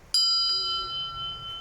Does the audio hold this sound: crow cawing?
no